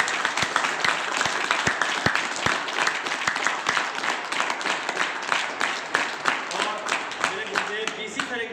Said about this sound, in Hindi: हिंदुस्तानी ताली बजाते हैं।